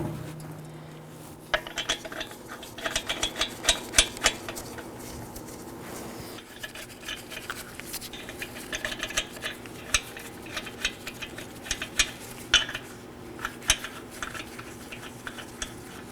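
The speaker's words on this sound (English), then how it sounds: "So hand thread on your 5 lug nuts." Metal lug nuts are hand-threaded onto a Chevrolet Equinox rear wheel, giving soft, close clicks, clinks and scraping rubs in irregular bursts with short pauses between.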